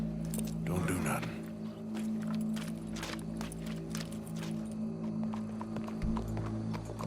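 Horse hooves clip-clop in a steady rhythm in Red Dead Redemption 2 video game, alongside a low humming drone, with faint voices in the background.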